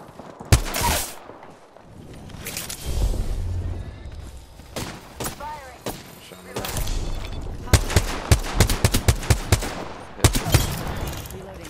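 Video game gunfire cracks out in sharp single shots and quick bursts, loud and close, separated by short quiet gaps and muffled movement, with a player talking between volleys.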